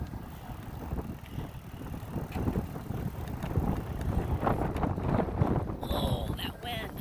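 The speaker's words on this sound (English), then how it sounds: "Oh, that wind." Steady gusty wind buffets the microphone on a Lectric XP 2.0 electric bike ride through a village on a cold, windy day, a constant roar throughout with faint voices near the end.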